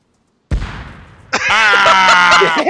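A video game grenade bursts with a sudden, loud, close blast whose noisy tail fades over about a second. Bright tonal game sounds follow.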